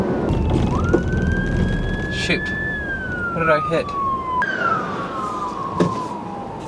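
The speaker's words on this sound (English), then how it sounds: "Oh, ambulance." A siren wails close by, rising and falling as the emergency vehicle passes on an Alabama road, while a driver talks over it.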